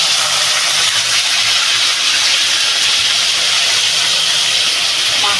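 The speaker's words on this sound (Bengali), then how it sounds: "আমার তেলটা গরম হয়ে গেছে, আমি এবার মাছটা ঢেলে দেবো।" Dried shrimp hitting hot oil in a home kitchen, a loud, dense, steady hiss of sizzling that carries through the whole moment with no speech.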